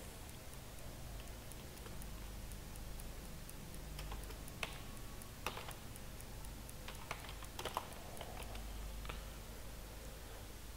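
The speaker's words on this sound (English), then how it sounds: "password I will type here" Password typed on a computer keyboard: faint, sparse key clicks in short irregular bursts over a steady low hum, fairly distant, with no voices.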